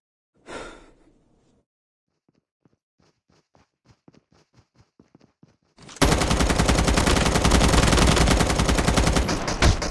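Gunfire in the Call of Duty Mobile battle royale game: a breath, then a string of separate distant single shots, then a loud, sustained close burst of automatic fire for the last four seconds.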